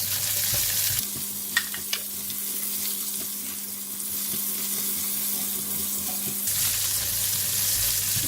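Onion, white radish, carrot and ginger frying in a pan with a steady close sizzle, a few clinks and stirring scrapes partway through, alone without talk.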